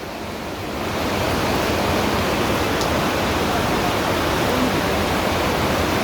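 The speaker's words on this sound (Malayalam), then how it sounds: "ഇതാ സ്കൂളിൻ്റെ ഇതിൽ കൂടെയൊക്കെയാണ് വെള്ളം വരുന്നത്" A dense, continuous roar of floodwater rushing through a school fills the scene, swelling in the first second and then holding steady and loud.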